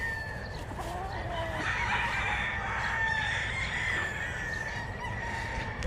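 Pullets on a large breeding poultry farm: a crowded chorus of clucking and crowing hens and roosters, steady and moderately loud, with overlapping calls and a busy barn background.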